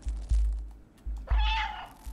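A single short cat meow rises from the video game Stray on PS5, set between low dull thumps, with no talking over it.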